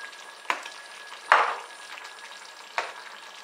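Tomato stew cooking in a pan, with a low simmering hiss under three distinct stirring or scraping clatters spaced a second or so apart, close by and without talk.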